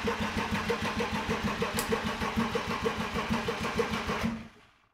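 A BMW E30 with an M50 engine cranks over and over without catching, its starter making a steady, rhythmic churning close by for about four seconds before cutting off into silence.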